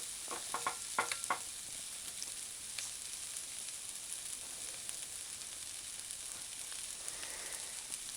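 Soy veggie mince stir-fried in a pan gives a steady, faint hiss of frying with a few quick scraping clicks of the spatula early on, then settles into a continuous low sizzle with no talking.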